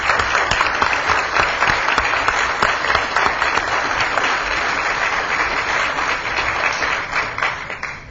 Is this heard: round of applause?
yes